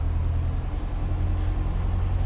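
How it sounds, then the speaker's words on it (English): A simulated light aircraft engine in the Prepar3d flight simulator runs up to power on the runway at Palma Mallorca Airport, heard as a steady, dense low rumble and drone that holds constant throughout, with no voices. "Power up the engine."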